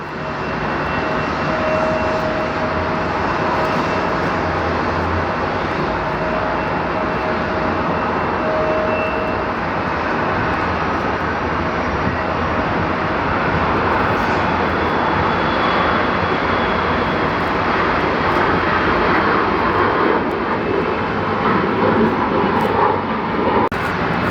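A passenger jet lands on runway 17 left at DFW airport with a steady, loud engine roar. It holds broadband and even throughout, with no talk over it.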